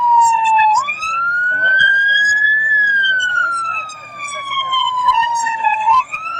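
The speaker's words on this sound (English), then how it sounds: "this is a siren sound from a completely different file." A wailing siren sweeps up and down in pitch, loud and close, its long rising and falling cycles sounding clearly over a faint low background.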